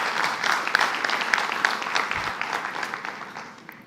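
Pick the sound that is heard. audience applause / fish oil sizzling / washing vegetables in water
audience applause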